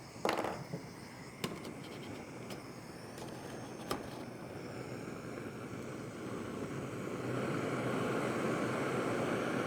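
Backcountry camping stove burning at full output while boiling 16 ounces of water for a hunting trip, a steady loud roaring hiss that swells and grows louder over time, with a few sharp clicks early on.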